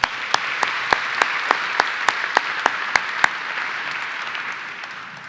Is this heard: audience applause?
yes